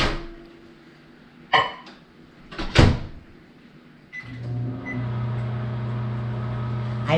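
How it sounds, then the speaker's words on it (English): Chocolate and margarine going into a microwave to melt: a few clunks and the door shutting, then the oven starts with a beep and a steady loud hum that continues to the end. "I'm gonna put the chocolate and the margarine in the microwave so it'll melt."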